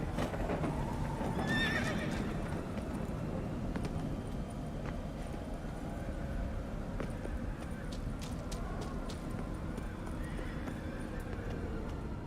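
A donkey brays in The Witcher 3: Blood and Wine amid steady game ambience, with hoof clip-clop and a continuous noisy background at moderate level, no clear speech.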